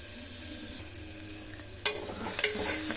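Onions and fresh curry leaves hit hot oil in a pan while a ridge gourd curry is being made. A faint sizzle swells into a louder, crackling burst partway through, close by, with no talking.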